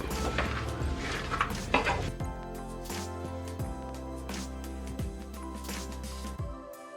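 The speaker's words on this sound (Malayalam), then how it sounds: "നല്ലതുപോലെ ഇളക്കി കൊടുക്കണം." Sweet flattened rice mixture with vanilla essence being stirred in a pan, a spoon scraping and clinking against the metal in repeated strokes, fairly quiet and without talk.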